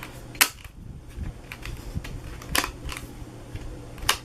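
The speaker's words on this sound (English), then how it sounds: "Get my corner rounder and again round the corners." A handheld corner rounder punch clips the corners of paper for a treat box craft, giving a handful of sharp, separate clicks and snaps spaced irregularly over a few seconds.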